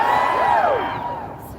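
A crowd at a protest against an Israeli conference in Denver cheers loudly with rising and falling whoops and shouts, close and dense, fading slightly over a brief moment.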